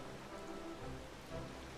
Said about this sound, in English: This whole story section really doesn't work with the rain.